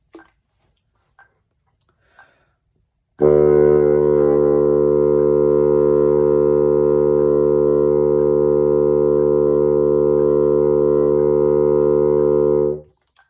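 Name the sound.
bassoon holding a long low D straight tone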